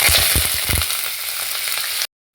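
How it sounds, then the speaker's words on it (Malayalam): Mustard seeds and urad dal splutter in hot oil, a loud, close crackling sizzle with a burst of sharp pops at first, settling to a steady fry before cutting off abruptly. "അര ടീസ്പൂൺ ഉഴുന്ന് പരിപ്പ് അര ടീസ്പൂൺ കടുക് കടുക് നന്നായിട്ട് പൊട്ടിയിട്ടുണ്ട്"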